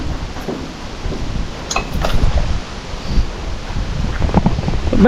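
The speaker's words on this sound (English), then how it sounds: "you can tell how windy it is." Strong wind blows outdoors at a shipping container delivery site, buffeting the microphone in a loud, uneven roar with gusts swelling and easing throughout, a few faint knocks in the background.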